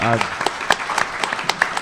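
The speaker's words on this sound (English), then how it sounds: "I think that deserves a little round of applause, ladies and gentlemen" Applause from a comic con panel audience, a scattered burst of claps with a few louder individual hits, starting just as a voice trails off at the very beginning.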